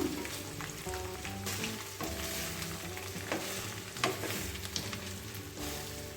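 Okra (ladies finger) fried rice being stirred in a pan with a little masala powder, a steady sizzle and frying hiss with scraping stir strokes throughout, close and fairly loud, no voices.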